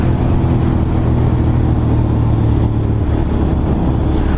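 A Triumph Scrambler 900 motorcycle engine drones loud and steady as the rider accelerates on the road, with a constant low rumble and heavy wind noise throughout.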